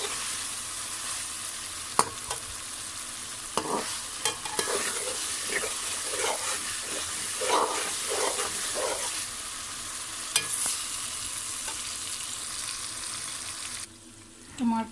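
Tomatoes for a Peshawari chicken karahi sizzle and fry in a pan while a utensil stirs them, with intermittent scraping strokes over a continuous soft sizzle, close by.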